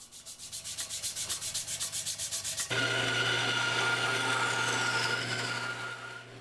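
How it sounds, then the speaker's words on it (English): A wooden axe handle for a forged Francisca battle axe is sanded up close, first in rhythmic back-and-forth strokes, then in a continuous loud rasp that fades slightly at the end. "This is just a lot of sanding"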